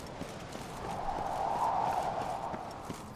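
Horse hooves clopping at a steady walk in The Witcher 3: Wild Hunt, moderately loud over a continuous bed of ambient game noise, with no talking.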